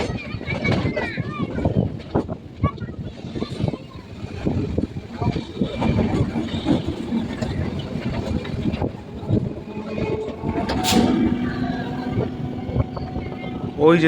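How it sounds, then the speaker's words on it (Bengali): The Ghanadhanya Express rumbles past on the adjacent track, heard from a moving local train as a continuous rattling clatter with wind buffeting, while a person talks over it throughout. "পাশের লাইন দিয়ে বেরিয়ে যাচ্ছে ঘনধান্য এক্সপ্রেস দেখুন ট্রেনটা কি সুন্দর বাঁক নিয়ে এগিয়ে চলেছে"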